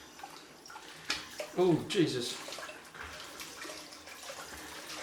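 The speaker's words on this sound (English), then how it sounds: "splashes of water. Ooh, explosions of water." Water splashing at a sink during a straight-razor shave with a Kamisori shavette, a brief burst of splashes in the middle over a quiet room tone, with someone speaking briefly.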